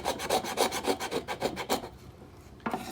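The rounded spine of a Damascus steel knife scraping across wood, with about ten quick rhythmic rasping strokes, close and clear, then a pause and one more stroke at the end.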